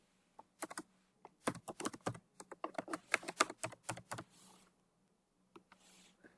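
A new password being typed on a computer keyboard. The keystrokes come as a quick, close, quiet run of clicks, bunched at first and then thinning out, with near silence at the end.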